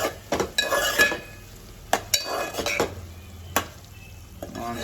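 Green chillies being stirred into a hot pan for a Nellore fish curry, with a sizzling base under repeated scraping, clinking spoon strokes against the metal pan at close range.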